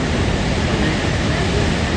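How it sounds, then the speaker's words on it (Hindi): Water of the Saraswati river flowing over rocks near Mana village at Badrinath, a steady broadband rushing roar filling the whole clip, close and continuous with no talk. "पानी का फ्लो देखो"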